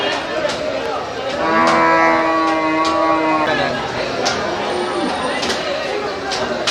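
Cattle at the Melapalayam cattle market moo in a long, loud, nearby call, with a crowd chattering and people talking over it.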